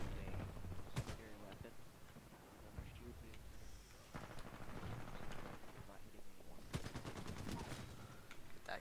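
An Alternator submachine gun fires in the video game Titanfall 2, in several rapid automatic bursts over busy in-game noise, with the loudest volleys near the start and the end.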